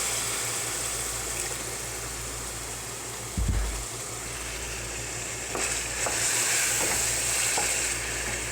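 Chicken curry with spices and tomato sizzles steadily in a pan after a little water goes in, a continuous close frying hiss with a few faint clinks and stirring sounds.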